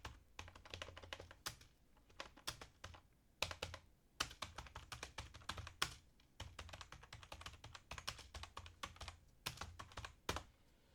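Rapid typing on a computer keyboard, entering a marketing prompt into ChatGPT: dense, irregular bursts of close, crisp key clicks with brief pauses, no voices.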